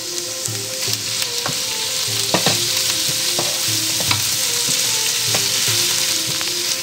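Sliced onions frying gently in a pan over medium heat, a steady close sizzle broken by occasional stirring scrapes and soft clicks, with no talking.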